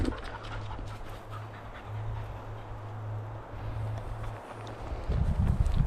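A dog pants steadily in quick, rhythmic breaths close by during a retrieving training session, with a burst of rustling movement near the end.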